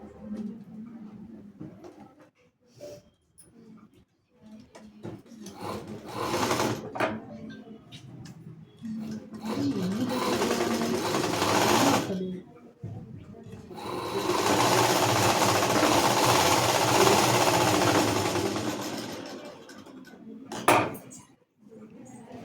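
Sewing machine stitching the front part of a blouse in a tailoring class, running in several bursts of rapid mechanical whirring with short pauses between, the longest run near the end.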